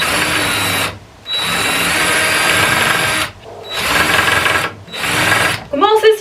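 A power drill drives a screw in three loud, close bursts separated by short pauses, followed by brief speech at the end.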